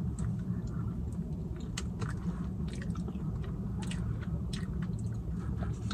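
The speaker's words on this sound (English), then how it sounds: "I'm gonna try the wing. This is the habanero wing." Close, wet chewing and biting on a Domino's habanero chicken wing, continuous soft crunches and squishes with faint clicks, steady and near with no talk.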